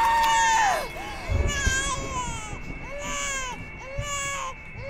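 A newborn baby cries during a birth scene in the horror video game Outlast 2, a series of wavering, rising and falling wails repeating several times over a murky, rumbling background, fairly loud and close.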